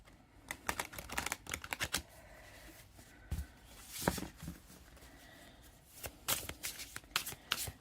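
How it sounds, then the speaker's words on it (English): Quiet riffle and flutter of a deck of playing cards being shuffled, several crisp bursts of rapid snapping separated by short pauses, close and soft. "They shuffle very nicely."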